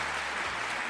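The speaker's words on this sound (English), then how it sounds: "Let's get the applause going for you guys for showing up here early." Applause from a small live audience at a show, a brief, dense burst of clapping with a little background murmur.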